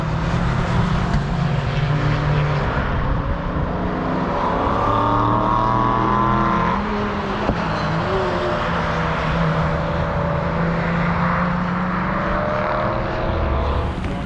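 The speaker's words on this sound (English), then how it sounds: "getting a couple of shots as the car's going by" A race car roars past on the Brands Hatch circuit, its engine note rising and falling loudly as it sweeps by, with another car's drone following in the open trackside air.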